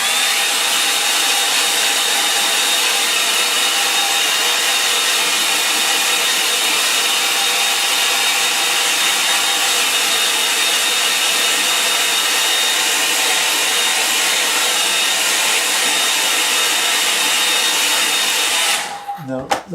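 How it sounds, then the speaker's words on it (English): Hair dryer blowing on a wet watercolour painting, a loud steady close roar that holds constant for nearly twenty seconds before cutting off abruptly at the end. "Now I'm going to dry that off quickly."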